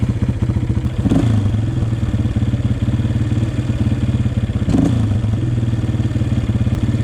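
A Honda CRF230 dirt bike engine idles steadily and loudly nearby, a fast even thumping putter with brief blips around the first and fifth seconds.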